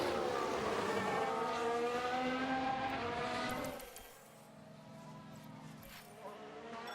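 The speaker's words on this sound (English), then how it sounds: "Sounds like someone's locked up." Racing engines roar loudly for several seconds in the F1 Manager 2022 video game at Bahrain, then a tire squeals briefly as a car locks up its brakes, followed by quieter engine hum.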